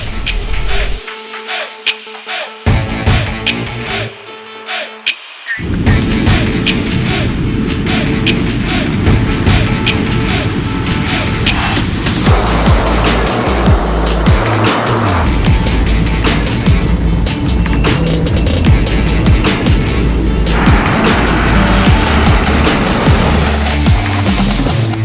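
A 570hp Porsche Taycan Cross Turismo drifting on dirt, its loud, continuous rushing drone with gravel and tyre noise dominating after a brief quieter, broken-up opening.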